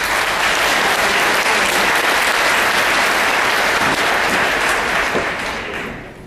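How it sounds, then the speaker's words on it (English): Loud, sustained applause from a graduation audience, dense clapping that holds steady for about six seconds before tapering off at the end. "So please give yourself a big round of applause"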